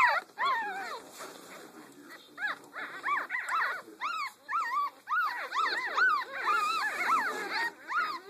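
Several newborn puppies whimper and squeal in high, rising and falling cries, overlapping in bursts with brief pauses, close and fairly loud.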